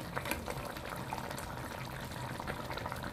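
Spicy poa fish curry simmering up to a boil in a pot, a steady, soft bubbling hiss with a dense crackle of small bursts and no talking over it.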